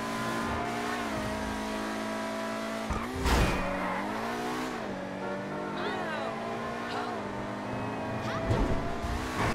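A sports car in the video game GTA 5 drives with a rising and falling engine note that shifts through gears, with tire squeals and brief skids, while a voice talks over it.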